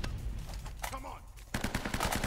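Gunshots in the video game Uncharted: Drake's Fortune Remastered, a quick burst of rapid, evenly spaced shots near the end after a single earlier report, heard over game ambience and faint voices.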